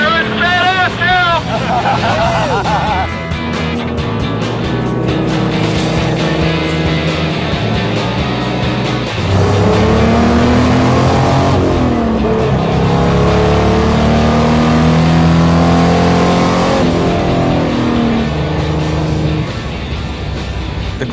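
A race car at a 24 Hours of Lemons endurance race revs on track, its engine note rising and falling loudly through acceleration and shifts, with crowd and voices murmuring underneath.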